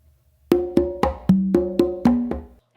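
A makuta rhythm on three congas comes through close and clear: eight crisp strikes in quick succession, the open tones changing pitch from drum to drum, a soft ghost tap setting up the repeat, then silence, with no voices.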